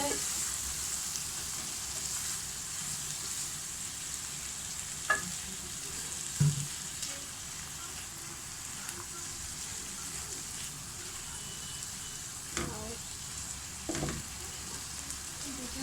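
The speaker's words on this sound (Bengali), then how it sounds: "এখন দিয়ে দেবো ওই বুটের ডাল আর দু তিনটে আলু একটু নাড়াচাড়া করে" Chana dal and a few potatoes being stirred in a frying pan, a steady low sizzle with occasional scraping clinks of the spoon against the pan, close by and fairly quiet, with no talking.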